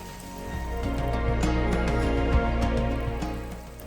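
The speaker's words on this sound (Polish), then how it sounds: "Jeszcze bardziej zaczęło mi się wydaje padać teraz" Steady rain patters down in a Welsh slate quarry, a dense wash of drops with a low rumble underneath, fairly close and unbroken throughout.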